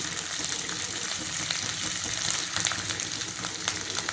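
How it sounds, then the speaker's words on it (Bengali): Boiled rice tipped into a hot frying pan with spices, producing a loud, continuous hiss and crackle of frying that holds steady, with light scraping and rustling. "যে চালটা আমি সেদ্ধ করে রেখেছিলাম সেগুলো আমি এর মধ্যে"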